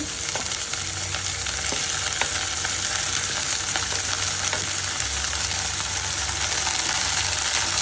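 Bitter gourd with green chilies fries in a pan for a homemade pickle, a steady loud sizzle running throughout with occasional scraping stirs and no talking.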